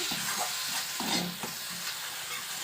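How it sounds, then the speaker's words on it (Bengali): Shrimp masala frying and being stirred in a pan, a close continuous sizzle broken by several scraping stirs, alone with no talk. "এখানে দেখো চিংড়ি মাছের মশলাটা কষা হচ্ছে"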